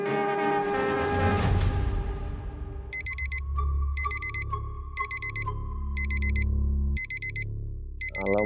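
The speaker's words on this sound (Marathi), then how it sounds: "अलार्म बंद करा रे." An alarm clock in a Marathi TV drama beeps in sharp, rapid bursts repeating about once a second, loud and close, after a swelling tonal music sting fades out.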